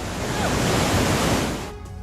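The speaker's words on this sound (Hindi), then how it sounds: "पानी का तेज बहाव है।" Strong floodwater flowing over a road in Rajasthan, a dense, steady rush of broadband water noise that fills the whole clip before easing off near the end.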